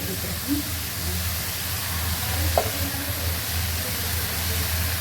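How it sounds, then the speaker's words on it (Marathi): Vegetables for Hakka noodles frying in a hot pan, giving a steady close sizzle and hiss throughout, with a brief clatter near the middle. "आपण छान पैकी या भाज्या थोडंसंच फ्राय करायचं"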